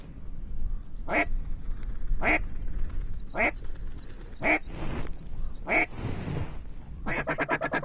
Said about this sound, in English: More ducks coming.